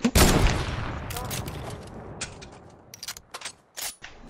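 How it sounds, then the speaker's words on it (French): A sniper rifle shot in a creative-mode shooter game, a loud blast that rings out and slowly decays, followed by scattered sharper game sounds and clicks. "Tu m'as mis une grosse balle de snipe."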